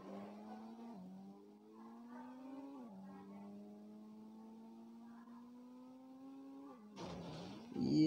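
A Bugatti sports car in the Indian Bike Driving game hums with a steady, rising engine drone, then slams into another car near the end with a sudden loud, harsh crunch.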